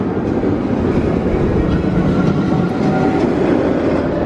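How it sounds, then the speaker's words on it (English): Incredible Hulk roller coaster at Islands of Adventure in Universal Orlando at night: a steady, loud rumbling roar of the train rolling along its track, continuous throughout with faint rattling on top. "There's the sound of the Hulk again."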